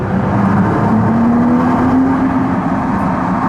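A loud, steady engine drone fills a tunnel as an Audi R8 or Nissan GT-R supercar accelerates, with a rising whirring tone that climbs slowly and holds, booming and continuous throughout.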